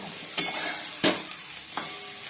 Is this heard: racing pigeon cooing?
no